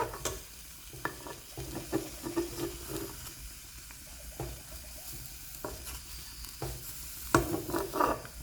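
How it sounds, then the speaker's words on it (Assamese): Fish frying in a pan over a low flame, sizzling steadily while a utensil stirs and scrapes it in a string of short knocks, with a louder scrape near the end. "এতিয়া মাছকেইটা অলপ লৰাই দিম।"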